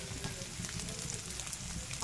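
Spices tempering in hot oil, a steady soft crackling sizzle with faint popping, continuous and close, with no talking.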